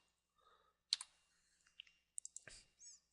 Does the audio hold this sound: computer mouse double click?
yes